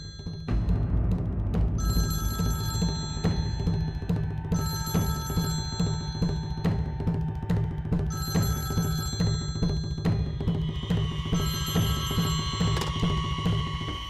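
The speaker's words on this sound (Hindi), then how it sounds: "बेटा देख फोन किसका है?" A telephone bell rings in loud, repeated bursts of jangling tones over a steady electronic backing, continuing for a long stretch without any voices.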